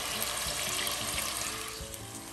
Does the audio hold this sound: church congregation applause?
no